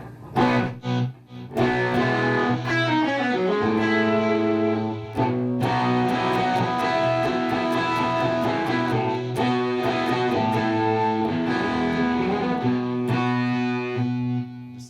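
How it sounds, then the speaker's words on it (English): Distorted electric guitar chords played through a digital delay and a flanger ring out with echoing repeats and a sweeping, swirling flanger tone, played steadily and loud with no voices. "a digital delay and a flanger that will go into a little thing over there for the dirty rhythm"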